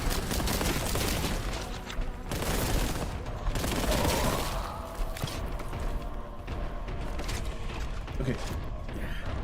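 Weapon reload in Warhammer 40,000: Boltgun, a run of quick mechanical clicks, ratcheting and metallic clacks over dense, continuous game noise that stays loud throughout.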